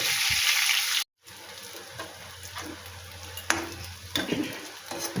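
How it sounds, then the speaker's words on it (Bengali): Eggplant frying in a pan in a home kitchen, a steady low sizzle with a few stirring scrapes and clinks, briefly cut off by a moment of silence early on, no talking. "এই বেগুনটা ভালো করে ভেজে আমি আগে তুলে নেব"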